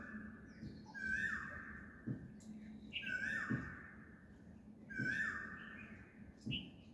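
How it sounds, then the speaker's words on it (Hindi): Asian koel calling in the morning, repeated rising whistled phrases about every two seconds, clear and moderately close, with a low steady hum beneath. "कोयल की कूक"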